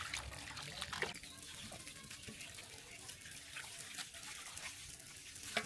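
Tap water running steadily while beef is rinsed for a bhuna, a continuous splashing flow with occasional louder splashes, fairly quiet and close.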